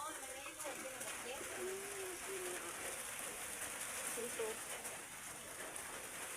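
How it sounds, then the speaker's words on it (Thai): Rain falls outdoors during a mushroom-foraging trip in Laos, a constant soft hiss spread evenly through the whole stretch, with faint voices murmuring underneath. "ฝนตก"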